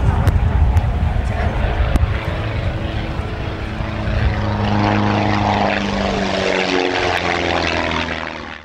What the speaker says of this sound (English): a demonstration of acrobatic flying had been arranged